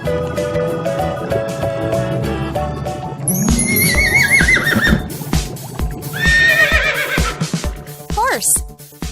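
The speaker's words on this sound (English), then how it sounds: "Horse." A horse neighs loudly in a long whinny, with clip-clop hoof sounds and music playing underneath, amid a children's animal sounds and colors song.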